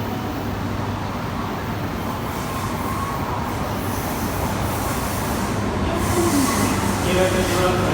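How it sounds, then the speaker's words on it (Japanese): A Tohoku Shinkansen train, an E5 series coupled with an E3 series, pulls into a platform at Tokyo Station with a low rolling rumble that grows louder toward the end, faint wheel squeals and voices audible over the station hum. "22番線列車の到着です。"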